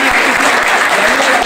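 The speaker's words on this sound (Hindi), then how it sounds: "इनके लिए जोरदार ताली बजाओ।" Students in a mobile repair training classroom clap together, a loud, steady burst of applause heard up close with no break.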